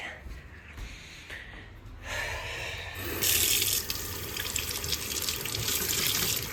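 Tap water runs into a sink to wet a cleaning sponge, a steady hiss that grows louder and fuller partway through, close by.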